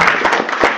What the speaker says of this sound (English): Round of applause again for Chad.